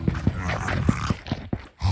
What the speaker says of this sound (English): Footsteps and particle effects.